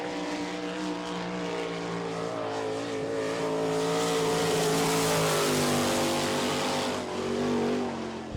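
A sprint race car with a Maxim chassis and McCune racing engine laps a dirt oval at an All Star Circuit of Champions event in Barberville, Florida; its engine drones loudly and continuously, the pitch rising and dipping through the lap.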